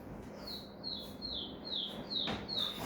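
A person whistles an imitation of bird chirping, a run of six or so thin, high falling tweets in quick succession, clear and fairly close against a quiet room.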